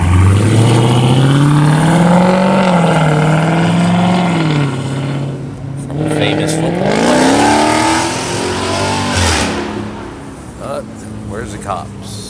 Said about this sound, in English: 1971 red Oldsmobile 442 convertible.